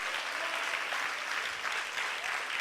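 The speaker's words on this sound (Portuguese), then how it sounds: "Você pode aplaudir o Senhor, porque a palavra nos fortalece." A church congregation applauds at a Portuguese-language leadership training service, steady dense clapping from many hands throughout, fairly close and even in volume.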